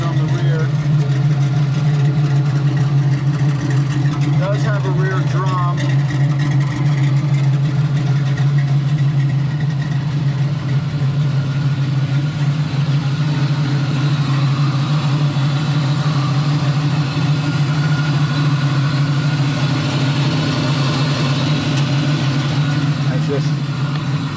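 A 1966 Chevrolet Nova with an SP383 EFI V8 idles steadily with a deep, even rumble, close and loud throughout with no break.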